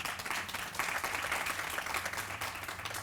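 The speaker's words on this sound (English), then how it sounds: "Give them all a round of applause." Applause from a crowd at a ribbon cutting ceremony for a housing development, a steady dense patter of many hands clapping at moderate level with no break.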